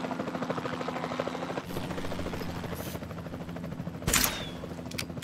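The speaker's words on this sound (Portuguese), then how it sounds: "Disparo desnecessário." A tranquilizer dart gun fires once in Jurassic World Evolution 2, a sharp close crack that cuts through the steady drone of a helicopter and mechanical in-game background noise.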